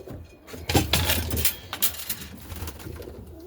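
Birmingham roller pigeons coo close by in their loft, soft throaty calls mixed with wing flutters and light metallic clinks.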